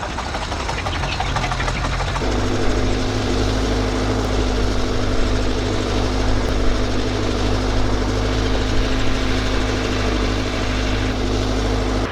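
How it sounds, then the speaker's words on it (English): The engine of a Fiat Agri tractor, converted into an eight-wheeled hydraulic rig that lays irrigation hoses between plants, runs loud and close. It settles into a steady knocking drone after a short rougher start, with no voices. "This Fiat Agri has become an 8-wheeled behemoth, using hydraulics to lay irrigation hoses between plants without damaging a single sprout."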